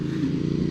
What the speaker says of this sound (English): I'm having a lot of fun with this motorcycle.